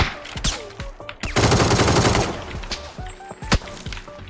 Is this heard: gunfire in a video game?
yes